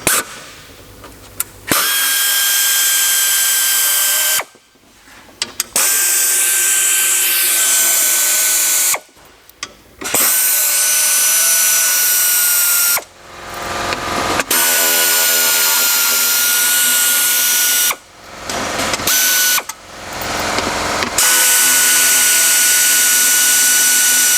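A pneumatic impact wrench undoes bolts on a BMW 640d engine in a workshop, sounding in loud sustained bursts of several seconds each, separated by short quiet pauses.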